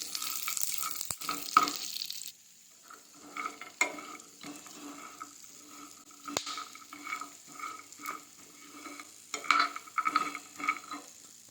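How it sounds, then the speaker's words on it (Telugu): Something is roasted in ghee in a pan over a low flame, giving a quiet sizzle with gentle scraping and stirring taps that carry on steadily and alone. "నెయ్యి వేసి సిమ్లో పెట్టుకొని మంచిగా దూరగా వేయించుకోవాలండి"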